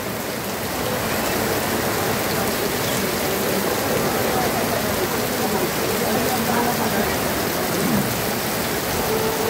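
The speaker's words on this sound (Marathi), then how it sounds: "मुसळधार पावसात हा जसा काय हा वादळी पाऊस आहे" Heavy, stormy evening rain with strong wind pours down over an emptied street in Nagar, a dense, loud, unbroken roar of drops hitting surfaces that holds steady throughout.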